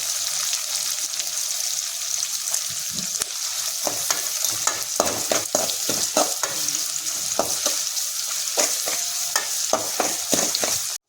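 Onions sautéing in oil with a little salt for a home-style pepper chicken gravy, giving a continuous bright sizzle broken by frequent scraping strokes of a spatula against the pan, close and fairly loud, no voices.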